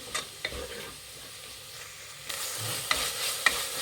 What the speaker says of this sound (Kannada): ಈ ಎಣ್ಣೆಯಲ್ಲಿ ಫ್ರೈ ಮಾಡಬೇಕಾಗತ್ತೆ ಸೊಪ್ಪುಗಳು ಎಲ್ಲ ಸ್ವಲ್ಪ ಸ್ವಲ್ಪ ಹಾಕ್ಕೊಳ್ಳಿ ಫ್ರೆಂಡ್ಸ್ ಮೆಂತ್ಯ ಪುದೀನ ಕೊತ್ತಂಬರಿ ಸೊಪ್ಪು